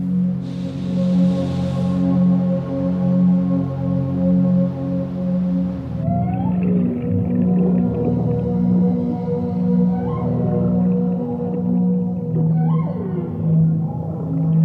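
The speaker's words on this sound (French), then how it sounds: "D'étranges bruits résonnent dans la mer. Ce sont les cris des baleines." Whale calls echo underwater in the open ocean, rising and falling moans and upswept cries over a steady low droning rumble, continuous and fairly loud throughout.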